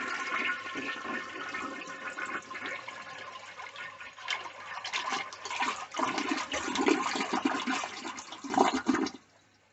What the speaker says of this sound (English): I'll conclude with a flush of the 1952 Eljer Silenta